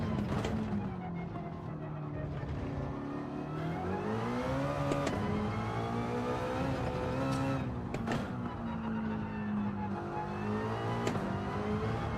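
Race car engine in a racing video game time trial, revving hard and continuously with rising and falling pitch as it accelerates and eases through corners, steady and loud throughout.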